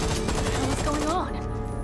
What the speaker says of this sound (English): Someone shooting at Ada.